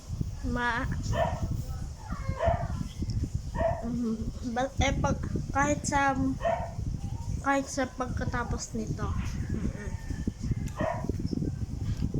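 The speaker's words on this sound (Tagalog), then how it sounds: "ang ingay ng aso" A dog barks and yips repeatedly in short bursts under steady talking, with a constant low rumble in the background.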